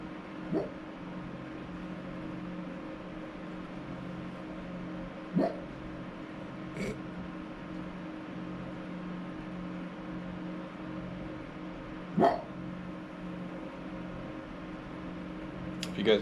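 A pet dog gives a few sharp, isolated barks spaced several seconds apart, fairly faint against a quiet indoor background hum.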